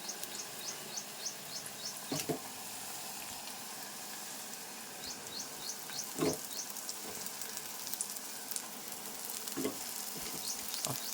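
Tender tamarind leaves dropped into a pan of softened onions, frying with a steady low sizzle throughout, broken by a few louder scrapes and stirs of a spatula, and faint bird chirps in the background.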